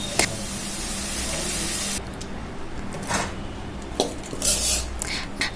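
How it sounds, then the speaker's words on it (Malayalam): Beetroot sautéed with chilli powder in a pan, a spatula scraping and clinking against the metal in intermittent strokes over a soft background hiss, with no talking. "അപ്പൊ അതും കൂടി ഇട്ടതിന് ശേഷം നമുക്ക് നന്നായിട്ട് വഴറ്റിയെടുക്കാം"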